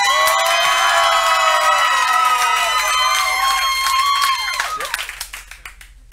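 A crowd at a comedy roast battle championship cheers, whoops and shouts loudly, then the noise fades into scattered clapping.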